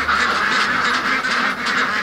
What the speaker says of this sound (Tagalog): Umaga pa nga lang, sa farm ni Josephine, nagsasabayang bigkas na sila.